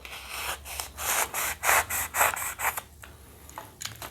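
A glove puppet head sculpture being cut and carved with a hand tool, rhythmic scraping and rasping strokes, about a dozen close, moderately loud passes in steady succession, with no talking.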